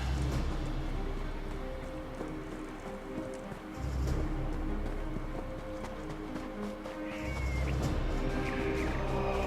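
A cat meowing inside Elder Scrolls Online, repeated calls over a steady bed of game music and ambient effects, with a few clip-clop and movement sounds.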